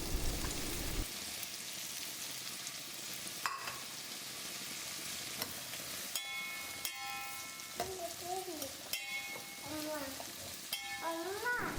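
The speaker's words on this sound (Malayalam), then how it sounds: "ഇനി നമുക്ക് അരിഞ്ഞു വെച്ചേക്കുന്ന സവാളയും കൂടി ഇതിനകത്തോട്ട് ചേർക്കാം" Chopped onions frying in a pan for a Kerala-style clam fry, a soft sizzle under sharp stirring scrapes and clinks, with brief squeaky pan sounds toward the end, quiet and close.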